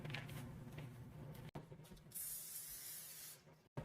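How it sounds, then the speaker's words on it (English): Cooking spray hisses from a can onto a baking sheet in a couple of close bursts, the second longer and brighter, with short breaks between. "I've lightly sprayed my baking sheet"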